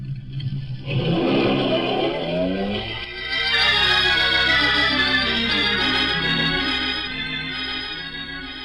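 A police squad car driving fast toward a private island estate, its engine a steady, loud whir and rising rev throughout, with no voices.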